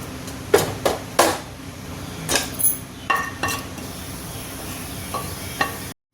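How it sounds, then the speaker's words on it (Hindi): Cumin seeds sizzle in hot oil with a soft, continuous crackle, broken by several sharp clinks and scrapes of a utensil against the pan. "अभी देखिए तेल गर्म हो गया, ये मैंने इसमें जीरा ऐड कर दिया है।"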